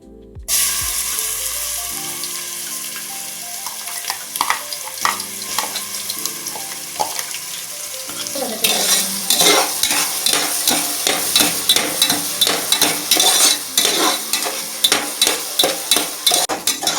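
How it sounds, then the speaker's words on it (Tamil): Three finely chopped large onions fry in hot oil for a chicken curry, starting as a soft sizzle and then growing louder with rapid, rhythmic scraping and clanking stirs against the pan, close and unvoiced throughout. "இஞ்சி, பூண்டு, வெங்காயம் அதோட பச்சை வாசனை போகிற வரைக்கும் நல்லா வதக்கிக்கணும்."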